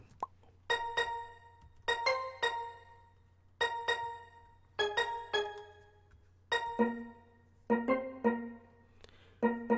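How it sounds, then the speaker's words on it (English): Bright, ringing steel drum notes struck in short clusters, each note decaying quickly, with pauses between phrases; clear and close with no talking. "that's our steel drum."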